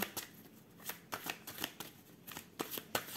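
Oracle cards, the pin oracle used in a tarot-style reading, are shuffled by hand in a run of quick, crisp papery riffles and flicks. The bursts come in an irregular rhythm, close and clear, with no talking.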